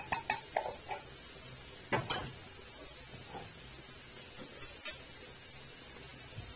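A spoon stirring spices in a metal pot, with a series of clinks and scrapes near the start, another cluster at about two seconds, then sparse quieter taps over a low background hiss.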